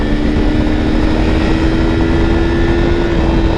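A new motorcycle engine runs at high speed, a loud, steady, close roar with a constant whine over a dense low rumble, uninterrupted throughout.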